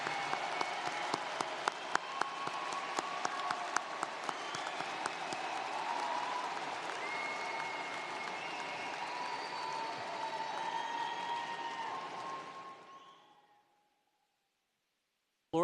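A large crowd at a Florida State University commencement ceremony applauds in a sustained, dense wash of clapping that carries on steadily for many seconds before tapering off to silence.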